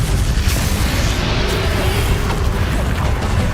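Confringo fire spell explosion in the video game Hogwarts Legacy, a loud sustained rumbling blast with heavy low-end boom and crackling burst texture, filling the whole moment without any voices.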